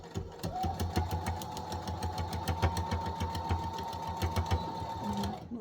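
A sewing machine runs a straight stitch through layered double-sided reusable cosmetic pads, a close, fast, steady mechanical chatter of needle strokes with a faint motor whine, running continuously before slowing briefly near the end; no voices.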